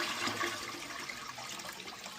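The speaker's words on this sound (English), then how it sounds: "Now I'm going to flush it 2 or 3 more times" A toilet flushes during cleaning of an iron-stained tank treated with vinegar, making a steady close rush of swirling water that stays level throughout with no voices.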